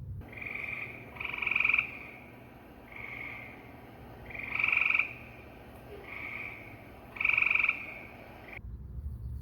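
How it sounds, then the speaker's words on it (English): A gray tree frog calls in repeated loud musical trills, several bursts a few seconds apart over a quiet low hum. "That one is the gray tree frog."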